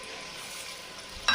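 Ground onion and garlic spice paste frying in a pan, a short even hiss of sizzling close by, with a brief louder stir or clatter at the end.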